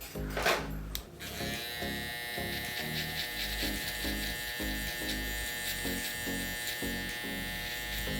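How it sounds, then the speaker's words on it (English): A T-liner hair trimmer buzzes steadily while cutting a mid skin taper on long hair, close and continuous after a brief clatter at the start. "That's my T-liner."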